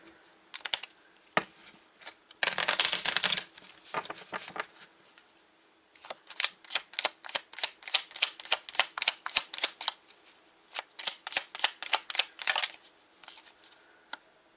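Daily Healing oracle cards being shuffled up close, with a burst of riffling followed by long runs of rhythmic, rapid papery slaps and flicks, and no voices.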